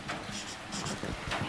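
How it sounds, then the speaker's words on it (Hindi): Pen writing by hand on paper during a physics lecture on differentiation and integration, a steady soft scratching and rubbing that runs for the whole brief moment and sits close and fairly quiet. "ऑप्शन में एग्जैक्टली लिख दे रहा हूँ"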